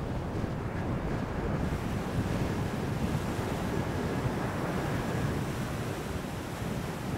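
Waves washing steadily onto a sandy bay beach, a continuous rushing surf roar with wind buffeting the microphone, no voices.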